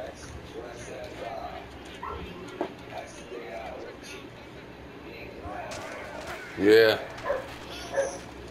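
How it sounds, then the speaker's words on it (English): Faint, distant small dogs bark in short yappy bursts, a few sharp barks near the end, with a quiet voice and background hum. "I can hear the little dogs barking."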